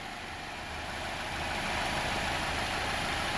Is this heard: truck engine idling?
yes